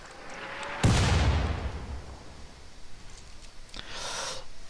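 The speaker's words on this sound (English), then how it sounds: "Actually, you should be manning a mortar" A mortar firing in RimWorld sounds as one loud, sharp blast with a long rumbling decay, followed a few seconds later by a second, fainter burst. There is no talking.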